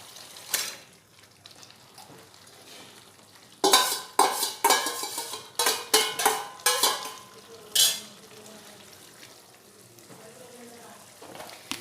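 Marinated chicken for a spicy Bengali lal jhol curry sizzles in a hot pan while a spoon scrapes and stirs it, a run of close, rhythmic scraping strokes over steady frying hiss.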